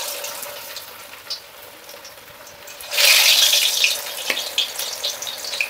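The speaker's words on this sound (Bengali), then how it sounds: "তেলটা আমরা যথেষ্ট পরিমাণে গরম করে নিয়েছি। এবার আমরা লেগ পিসগুলোর মধ্যে ছেড়ে দেবো।" Chicken leg pieces with a coating drop into well-heated oil, and a loud burst of frying sizzle erupts partway through, then keeps crackling steadily. No one speaks.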